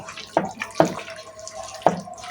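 Water from a kitchen tap splashes over hands being rinsed, a few distinct splashing bursts over a faint running trickle, close and fairly quiet with no speech.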